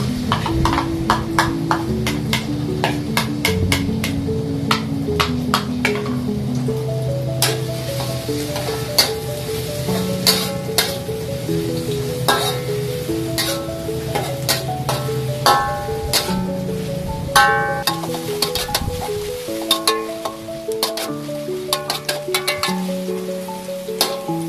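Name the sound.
stir frying garlic and onion in a pan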